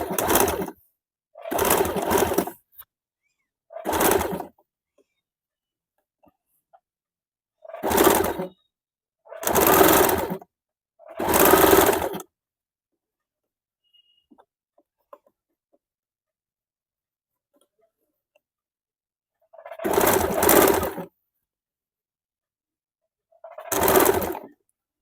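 Electric sewing machine stitching piping onto a blouse neckline, running in several separate bursts of one to two seconds each, with pauses of silence between them, loud and close.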